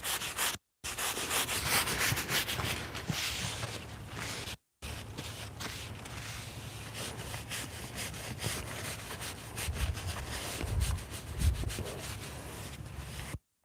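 Steady rubbing and brushing as product is worked into a horse's coat by hand, a continuous close friction sound with brief breaks, with some low thuds and shuffling from the horse.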